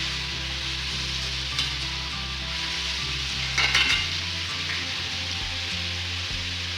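Food stirred in a pan of hot ghee and oil gives a steady, close sizzle that runs throughout, with a brief louder scrape of the utensil near the middle, and no voices.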